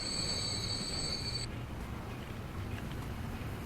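Trains running along a busy rail line in the video game Transport Fever, set in 1956, with a steady rolling rumble and a high metallic wheel squeal that cuts off partway through.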